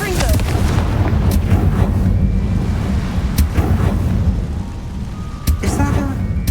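A Confringo fire spell blasts in Hogwarts Legacy, with heavy booming bursts and rumbling impacts over dense, continuous game sound, loud and close throughout.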